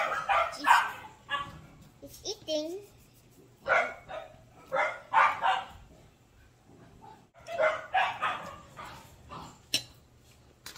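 Several dogs bark and yip in bursts, fairly close, with short pauses between flurries and a person speaking briefly.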